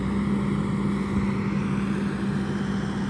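A Kubota SVL 65-2 compact track loader idles at a job site where mulch is being spread, its engine giving a constant low diesel drone with a steady hum, close and unbroken.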